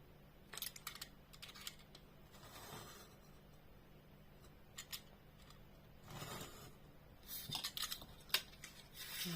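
Scissors snip through paper while a greeting card is made in a scrapbooking project, a few faint, crisp cuts spread irregularly through a quiet room.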